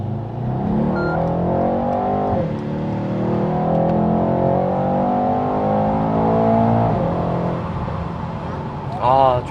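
A Mercedes-AMG E63 engine revs hard and accelerates with a deep, rumbling exhaust roar, rising in pitch through gear changes, loud and close, with a voice talking over it.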